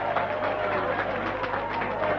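A crowd at a motel greets Gough Whitlam during the 1974 Australian election campaign, making a steady, dense wash of cheering and applause that stays level throughout, with a faint low hum beneath it.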